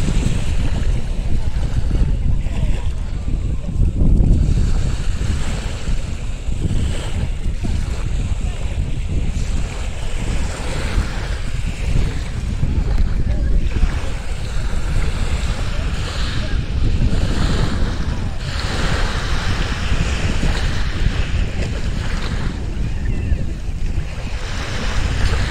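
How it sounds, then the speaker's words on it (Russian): Sea waves surge and break steadily on a pebble beach at Novorossiysk as strong wind buffets the microphone, a loud continuous roar with no voices. "Вот волны немножко. Красота."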